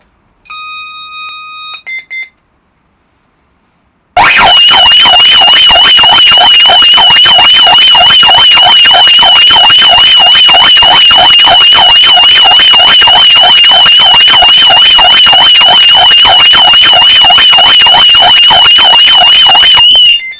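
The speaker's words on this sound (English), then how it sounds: "let's see how much current it uses in alarm condition" An Eaton sounder in alarm condition opens with a few short electronic beeps, falls silent briefly, then launches into a loud, piercing, rapidly pulsing alarm tone that continues steadily for the rest of the clip.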